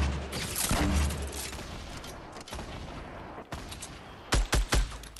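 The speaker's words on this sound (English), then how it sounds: "I'm shooting at him right now." Gunfire in Fortnite Battle Royale, a dense roaring volley of shots that fades over a few seconds, followed by a few sharp separate shots near the end.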